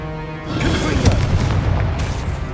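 A Confringo blasting curse explodes in Hogwarts Legacy, a loud booming blast with a sharp peak in the middle and a rumbling tail, under a background game score.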